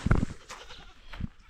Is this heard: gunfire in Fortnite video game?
no